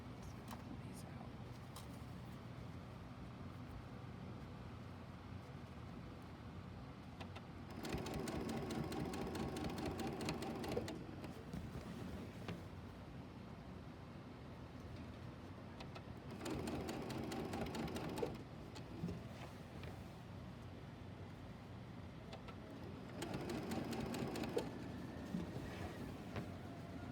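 A sewing machine stitches fabric binding on a tree skirt in three steady whirring bursts, with quiet pauses between runs and faint room noise throughout.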